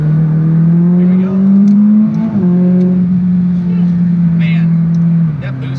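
A turbocharged McLaren 600LT engine drones loudly while accelerating in the canyons, a steady rising tone dipping briefly then pulling on under a voice.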